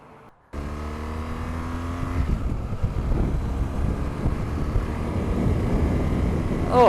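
A BMW GS motorcycle engine pulls away and climbs through rising revs while riding, a loud close drone mixed with heavy wind rush, after a brief quiet start.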